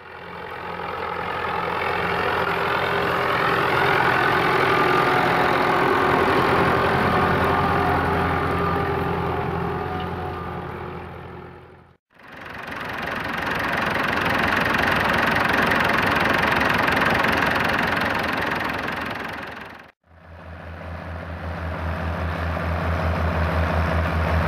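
Four-cylinder 3.9 litre Perkins diesel engine in an old tractor idling with a steady rough knocking chug, loud and close, running alone in two brief cut sections.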